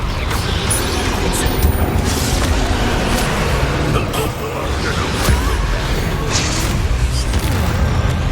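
A Confringo fire spell explodes in the Hogwarts Legacy video game, a loud boom buried in dense, continuous combat noise with rumbling and mechanical clatter throughout.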